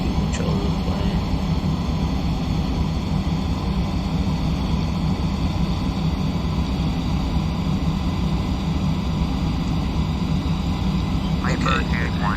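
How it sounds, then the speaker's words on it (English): Piper light aircraft engine in the Prepar3D flight simulator, flying from Atlanta toward Miami, a steady loud low drone that runs unbroken under continuous talk throughout. "That's me taking control of the plane."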